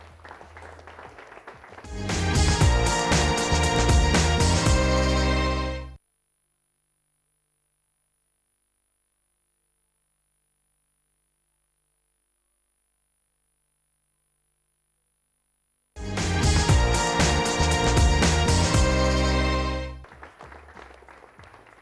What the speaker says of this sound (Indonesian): tepuk tangan dong buat Anda